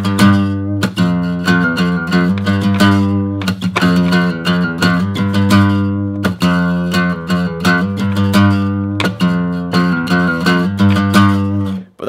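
An electric guitar plays a riff, loud distorted chords chugging in a fast, repeating back-and-forth pattern that runs without a break, heard close and alone.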